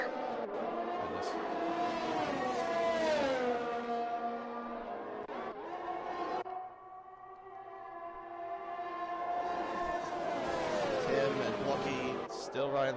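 Race car engine of a McLaren in a sim race at Belgium, a sustained tonal whine rising and falling through gear changes, loud and steady under continuous commentary talk.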